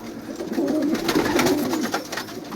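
A loft of domestic tumbler pigeons of mixed breeds in Syria, including yellow homers, coos steadily, with soft rolling calls and faint wing and shuffling noises close by.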